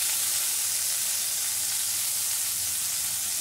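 Grated onion fries in hot oil in a wok, a dense, even hiss of sizzling that stays steady and close for the whole moment, with no voices.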